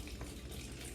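Milk pouring into a mixing bowl during pancake preparation, a steady liquid stream heard up close and fairly quiet for about a second, with no talking.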